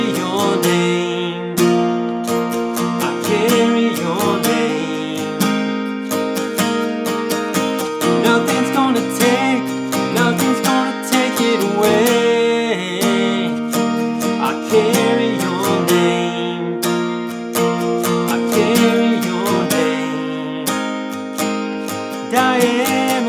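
Acoustic guitar strums a song with passing chords added between the main changes, bright steady strokes in an even rhythm, close and full for the whole stretch with no voices.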